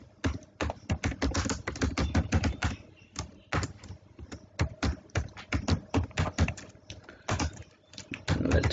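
Quick, uneven keystrokes on a computer keyboard while writing Java code, close and crisp, in dense bursts with short pauses and no talk.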